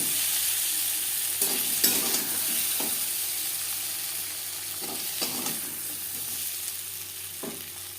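Lightly fried pointed gourd (potol) in a kadai gives a steady, close oil sizzle, broken by several scraping stirs of a spatula against the pan; no voices.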